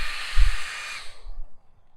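A hair dryer blowing to warm a beeswax sheet for candle rolling, a steady airy hiss with a low rumble near the start, close, then cutting off and fading to near silence.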